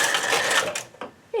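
A knitting machine's main carriage slides across the needle bed while knitting a baby beret, a loud sustained mechanical rasp for about a second, then quieter clicks and a brief clack near the end.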